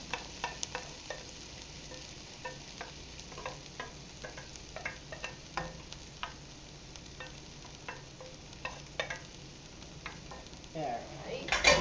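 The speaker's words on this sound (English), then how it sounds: "So we're going to toss the cabbage in" Cooked cabbage tossed and stirred in a hot skillet, with a low sizzle under a run of light, irregular scrapes and taps from the utensil and a louder stir at the end.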